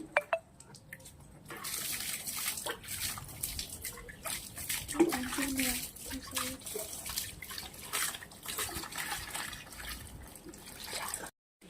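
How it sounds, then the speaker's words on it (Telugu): Water splashes and trickles unevenly onto soil in potted chrysanthemum plants for several seconds, with soft sputtering bursts and faint talk underneath. "ఇప్పుడు వీటికి కొన్ని వాటర్ యాడ్ చేద్దాం"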